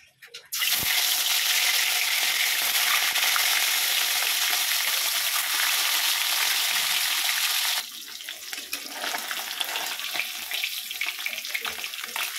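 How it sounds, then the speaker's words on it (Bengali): Fish rubbed with salt and turmeric frying in a hot pan, a loud sizzle that starts abruptly, holds steady, then drops to a quieter, crackling spit partway through. "মাছগুলো ভালো করে ধুয়ে নিয়ে লবণ হলুদ মাখিয়ে ভেজে নেব"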